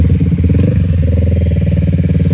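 Several motorcycles idle loudly together on a makeshift starting grid, a steady throbbing engine chatter close by with slight revs swelling through it.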